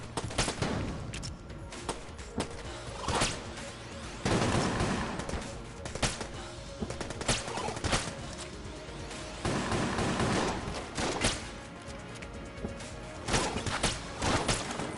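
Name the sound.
gunfire and shotgun shots in a video game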